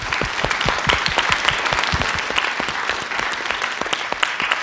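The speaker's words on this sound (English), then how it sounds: "Let's give them a round of applause" An audience at a housing mobility panel event claps for the panelists, dense sustained applause that holds steady throughout.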